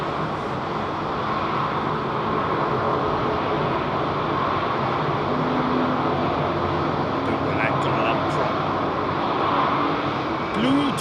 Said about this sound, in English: Dimitris, another 380 with Emirates on finals now